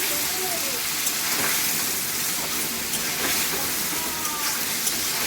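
Fried eggs stirred into a hot curry masala sizzle with a steady, dense hiss that runs unbroken throughout, with faint scrapes now and then.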